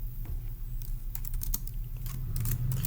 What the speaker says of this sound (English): let's go ahead and type that up